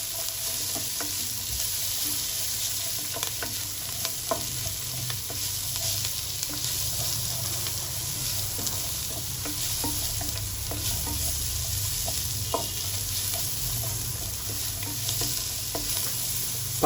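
Ingredients for a Telangana-style mutton gravy curry stirred in a hot pan: a loud, steady oily sizzle runs throughout with scattered scraping and clinking of the spoon, and no voices.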